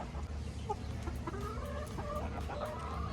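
Chickens cluck and chatter in short, scattered calls over a steady low background hum, with several birds audible close by.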